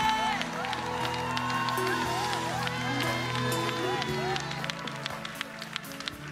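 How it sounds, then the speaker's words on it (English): Crowd applause and scattered cheers fill a North Miami Beach key-to-the-city ceremony for a bishop, continuous clapping mixed with music and chatter, easing slightly toward the end. "Let's keep clapping."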